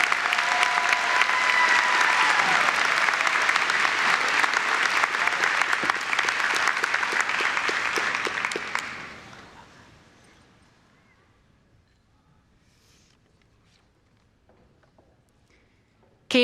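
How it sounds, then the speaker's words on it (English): Spring commencement crowd applauding an award recipient: a long, loud wash of clapping for about nine seconds, then fading quickly to a near-silent hall with a few scattered claps. "All please join me in another round of applause for the May 2026 President's Award of Distinction, Ella Good."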